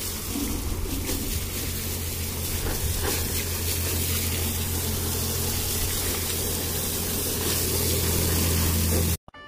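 Water spraying steadily and loudly from a pressure washer onto a Tata 315 loader being cleaned with shampoo, a continuous broadband hiss over a low engine or pump drone, cutting off abruptly at the end.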